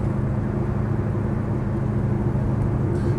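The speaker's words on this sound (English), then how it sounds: "Put it in fourth gear and just use the torque, and it will just pull itself along, including up this rather steep hill." Rover P6 3500S car climbing a steep hill in fourth gear, a steady low engine drone and road rumble holding constant and close throughout, with no talk.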